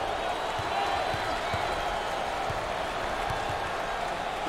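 Basketball arena crowd at an NCAA Final Four game between Virginia and Oklahoma applauding a player, a steady, dense wash of clapping and cheering with a few faint low thumps beneath, evenly loud throughout.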